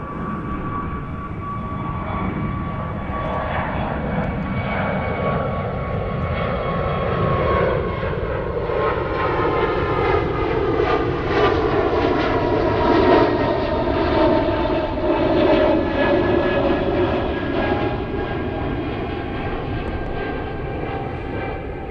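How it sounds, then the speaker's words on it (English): A jet airliner powered by GE90 engines roars overhead at full thrust at Zurich airport, a loud sustained rumble with rising and falling whining tones as it passes. "those are GE90s at full power overhead in a few moments"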